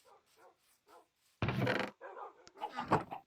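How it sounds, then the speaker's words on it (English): Several dogs bark in a Minecraft world, a few short yips at first, then a loud close burst of barking and further barks toward the end, with no speech. "you might notice there are dogs pretty much everywhere now because Uh, I bred a lot of dogs"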